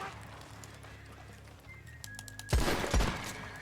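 Gunshots ring out in the Red Dead Online video game, with a couple of sharp, loud cracks in quick succession near the end, following a quieter stretch of low in-game ambience.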